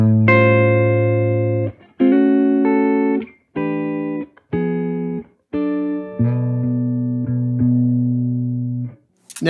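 A clean electric guitar on its neck pickup plays through a Showtime '64 tube amp plugin, with several sustained, ringing notes and chords alone, each decaying before the next.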